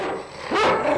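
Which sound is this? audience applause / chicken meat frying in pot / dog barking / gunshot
dog barking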